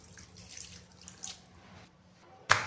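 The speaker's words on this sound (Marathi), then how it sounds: "फिश आपल्याला स्वच्छ धुवून घ्यायचे आहेत." Running tap water while pomfret fish are washed in a kitchen sink, a soft steady splashing flow with a brief louder splash at the end, close by with no voices.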